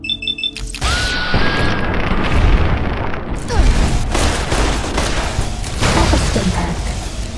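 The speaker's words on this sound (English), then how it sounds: "It's all about setting off these bombs." Bombs going off in Fallout: New Vegas, a string of loud booming blasts and chaotic combat noise rolling on after a sharp onset, dense and continuous throughout.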